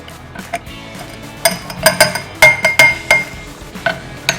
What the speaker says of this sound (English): So I'm going to muddle this till the mulberries are really crushed